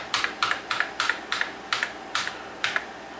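Keys on a TRS-80 Model 4 computer keyboard pressed one after another during testing, about a dozen crisp, close clicks in an uneven rhythm, with each key's press and release heard, alone in a quiet room.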